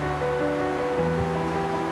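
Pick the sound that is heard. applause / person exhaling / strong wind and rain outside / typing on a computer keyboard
strong wind and rain outside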